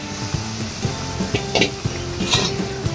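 Boiled lentils go into hot, dried-out fried masala for a prawn dal. A loud, close sizzle rises, with scraping stirs and clatters of a utensil on the pan and no talking.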